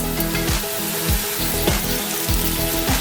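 Carrots frying in a pot for plov, a loud, continuous sizzle with crackling pops and repeated low clanks of stirring throughout.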